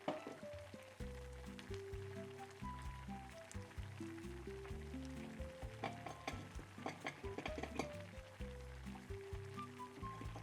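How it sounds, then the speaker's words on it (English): Cornflour and water slurry being mixed in a kitchen, a run of quick clinking stirs and liquid swishes under soft background music, close and fairly faint. "We're going to use some cornflour and some water, mix it together so we can thicken this up."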